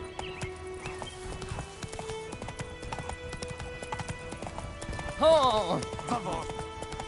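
Roach, a horse in The Witcher 3, gallops with rhythmic clip-clop hoofbeats throughout, and a loud neigh breaks in near the end. Someone speaks briefly over the hooves.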